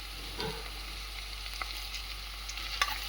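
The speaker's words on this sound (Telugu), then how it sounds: "ముందు ఉల్లిపాయలు, పచ్చిమిరపకాయలు, కరివేపాకు బాగా వేపుకుంటామండి." Onions, green chillies and curry leaves fry in a pan for a punukulu and drumstick curry, giving a steady, even sizzle with a few soft utensil clicks. There is no talking.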